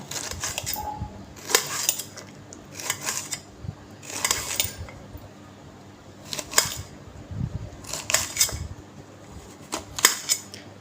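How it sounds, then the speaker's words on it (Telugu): A knife slicing okra crosswise on a board, sharp repeated chopping clicks at a steady, unhurried pace, close and moderately loud over faint background hum. "ఈ బెండకాయలను అయితే అండి ఇలాగ క్రాస్గా కట్ చేసుకోవాలట"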